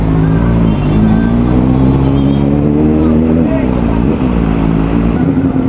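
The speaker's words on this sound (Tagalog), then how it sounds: "Medyo traffic lang talaga dito." Morning road traffic in Towerville flows around a rider on a Kawasaki Ninja ZX4RR. Cars and motorcycles make a loud, steady engine drone with a low rumble throughout.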